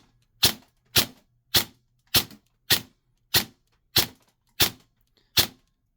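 An ICS MK18 Daniel Defense airsoft gun, upgraded and pre-cocked, fires ten semi-automatic shots: sharp, evenly spaced snapping pops about half a second apart, close and clear with no talking.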